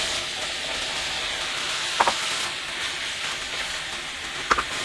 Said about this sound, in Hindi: इसे भी हम 4 से 5 मिनट के लिए भूनेंगे